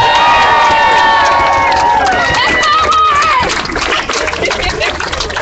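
A crowd at an outdoor rally against Indiana's RFRA cheers and claps loudly and continuously, with voices shouting and whooping over the roar before it eases slightly.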